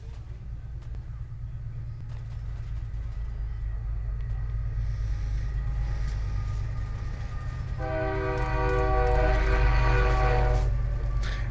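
A train in the Fallout 4 video game rumbles past with a steady low roar, then sounds a loud, sustained horn near the end over the rolling noise.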